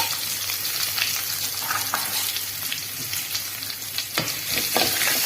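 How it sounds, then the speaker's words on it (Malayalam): Mustard seeds, urad dal and chopped shallots frying in hot oil for a Kerala cabbage thoran, a steady dense sizzle with scattered crackles and pops and occasional louder spatters. "കടുക് ചൂടായി വരുമ്പോഴത്തേക്ക് കുറച്ച് ഉഴുന്ന്, കുറച്ച് ചെറിയുള്ളി അരിഞ്ഞത്,"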